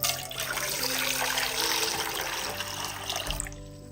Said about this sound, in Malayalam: ഇനി മുട്ട പുഴുങ്ങിയെടുക്കുന്നതിന് ആവശ്യമായിട്ടുള്ള വെള്ളവും കൂടി ഒഴിച്ചു കൊടുക്കാം